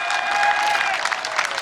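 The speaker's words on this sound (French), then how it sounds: "on remercie tous les gens qui applaudissent" Spectators applauding at an electric kart race held on a town street, an even spread of clapping from the crowd, fairly close, with a thin steady whine running underneath.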